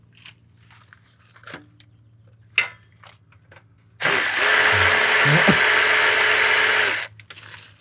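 A power tool whirs steadily for about three seconds while it backs bolts out of a junkyard Pontiac T-37. A few light clicks and clanks of handling come before it, and the tool is close and loud.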